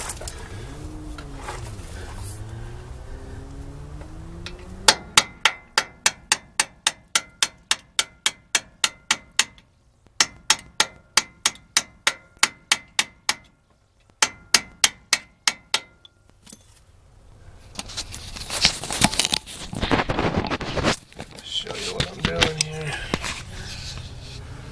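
A hammer drives a bracket out on a 1985 Ford F250 4x4 truck during a brake inspection, with sharp metallic strikes in quick regular bursts, pausing between series, then scraping and handling noises afterward.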